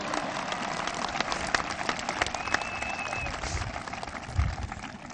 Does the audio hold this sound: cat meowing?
no